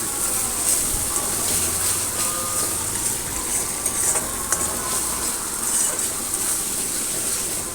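Masala fries for a rohu fish curry, giving a dense, continuous sizzle with faint stirring scrapes underneath, steady and close throughout.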